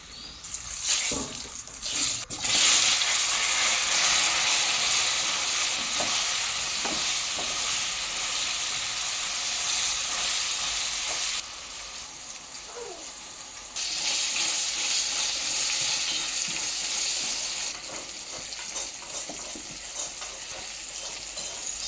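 Red amaranth greens (lal shak) frying in a pot, a loud continuous sizzle with scraping stirs and clinks early on, dipping briefly quieter midway then resuming.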